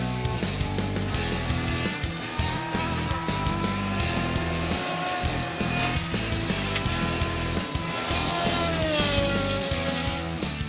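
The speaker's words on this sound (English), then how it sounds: "Scribante's screaming Chevron V8 was a flyer throughout the weekend" A Chevron V8 single-seater race car screams past at a hillclimb, its high-revving engine note rising and falling through gear changes, loud and sustained throughout.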